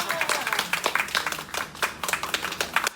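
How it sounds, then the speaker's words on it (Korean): Audience applause at the opening ceremony of a church's East Asia headquarters office: a small group claps in quick, uneven bursts, close and fairly loud, with individual hand claps distinct, alongside some voices. "박수 쳐주세요"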